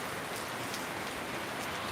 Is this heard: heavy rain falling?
yes